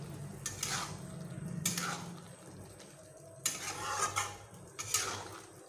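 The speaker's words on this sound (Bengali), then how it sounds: "আমি ভালো করে লাউয়ের সঙ্গে এই টমেটো আদার পেস্টকে এইভাবে" Tomato-ginger paste stirred into bottle gourd in a pan, a few slow, moist scraping strokes separated by pauses, close and fairly soft over a low background hum.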